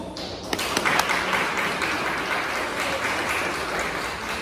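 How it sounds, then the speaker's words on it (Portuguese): Church congregation at a healing and deliverance service applauding in worship, a sustained even wash of many hands clapping, fairly close, with a few sharper claps near the start. "Sente aplaudindo e adorando a Jesus."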